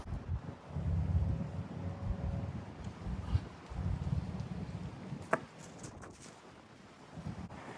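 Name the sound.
wind blowing outdoors at a disc golf course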